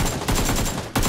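Rapid automatic gunfire in PUBG as a squad lays down cover fire, a loud dense burst of shots that breaks off briefly near the end before resuming.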